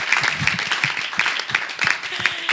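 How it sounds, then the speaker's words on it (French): Live audience at an acoustic Christian music show claps together in a dense, lively burst, with hand strikes coming in regular pulses and the sound near and full throughout, with no talking. "Je pensais que vous alliez applaudir pour cela"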